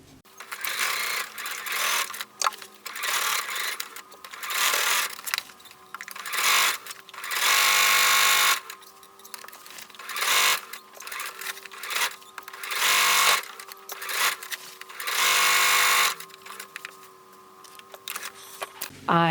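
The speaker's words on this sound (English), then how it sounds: "So let's go ahead and sew that seam." A sewing machine stitches a fabric seam for a handmade cap, running in repeated bursts of steady motor whir with short pauses between runs, close and fairly loud with no talking.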